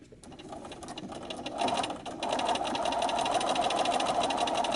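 A sewing machine runs steadily, stitching a foundation piecing line through paper and quilt fabric, a fast even whir and clatter that starts softly and grows louder and continuous.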